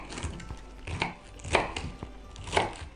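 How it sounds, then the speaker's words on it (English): Knife chopping silverbeet (Swiss chard) stems on a wooden board, a handful of crisp separate chops spaced about half a second apart, close and clear with no voices. "and then I chop up the stems."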